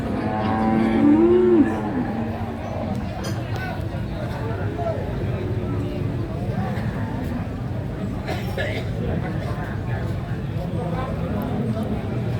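A bull lows loudly at a busy cattle market in Jatirogo, one rising moo close by at the start, followed by a steady hubbub of crowd chatter, livestock and market noise.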